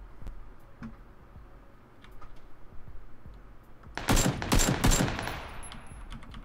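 Gunfire in PlayerUnknown's Battlegrounds, a rapid burst of several loud, sharp shots clustered together after a stretch of quiet ambient game sound, with a brief tail of scattered ticks at the end.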